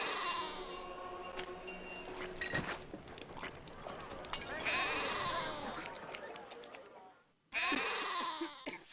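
Sheep bleat repeatedly in a city builder game, several overlapping calls at moderate loudness over a busy ambient game soundscape, with a brief drop to near silence before the bleating resumes.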